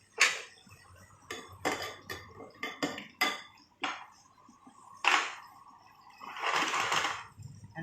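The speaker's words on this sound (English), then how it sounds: "we'll throw in potatoes. Give it a bit of stir." Potatoes are stirred in a pan with wagyu beef fat, a utensil clattering and scraping against the metal in uneven bursts, with a louder sustained sizzle-like rush near the end and no talk.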